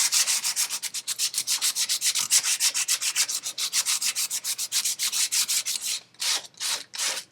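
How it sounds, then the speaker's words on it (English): Sandpaper rubbed back and forth over a painted wooden chair frame, wearing the paint away in a steady run of close, loud abrasive strokes that slow into a few longer, separated passes near the end. "it just sort of wears the paint off wherever I am rubbing the sandpaper"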